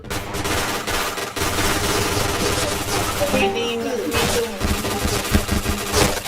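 Dense rapid gunfire bursts from the online shooter game Point Blank, loud and nearly continuous, with excited voices talking over the shooting.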